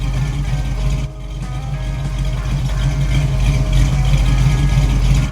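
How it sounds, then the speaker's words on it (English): A Ford Mustang's 351 Cleveland V8 runs with a deep, throbbing rumble, loud and close, holding a steady idle that swells slightly as it is revved up while still cold, with no voices. "You have to keep revving the engine up until it gets some heat in it."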